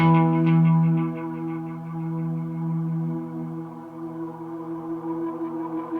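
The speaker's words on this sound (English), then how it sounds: "Feedback, so you can set this into oscillation." A tape echo effect on a 12-string baritone acoustic guitar, with its feedback pushed into oscillation. A sustained, droning tone builds on itself, holding steady with wavering, distorted repeats that swell and slowly fade.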